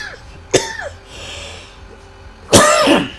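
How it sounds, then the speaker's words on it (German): Two sharp, loud coughs ring out about two seconds apart, with faint game background sound and a short vocal murmur between them. "Ja, schlimm, der Husten geht noch nicht weg bei mir"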